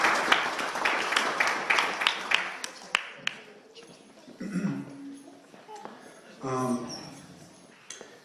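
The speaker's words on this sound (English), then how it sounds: "Give a round of applause for Doug." At a company holiday party, a room of people claps briefly and briskly, and the applause fades after a few seconds into scattered claps and murmured talk.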